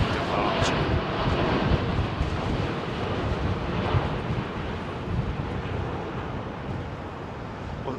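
A United Boeing Dreamliner departs Heathrow runway 27R, its engines making a steady, loud broadband roar that holds for the whole stretch with no break.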